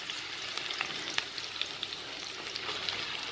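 Green chili and onion sizzle in hot oil for chicken noodles, a quiet, steady frying hiss dotted with small pops and crackles close by, with no voices.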